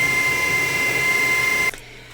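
A drill turns a 5.5mm bit with a steady high whine that holds for under two seconds, then cuts off abruptly.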